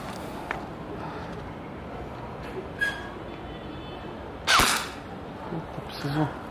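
A few sharp snaps from an airsoft gun ring out, spaced apart over a quiet, slightly windy outdoor background, with faint voices nearby.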